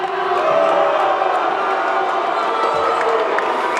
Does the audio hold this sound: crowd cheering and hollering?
yes